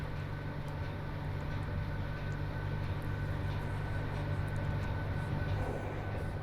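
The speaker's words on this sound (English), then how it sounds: "We can now hear the locomotive transformer notching up." Class 87 electric locomotive in Train Simulator Classic, its transformer tap changer notching up: a steady, loud low hum with layered tonal drones and rumbling running noise throughout, no talk.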